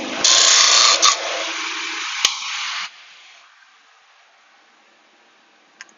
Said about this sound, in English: usually I like to sand off the nose here, which looks a little bit funny after the trim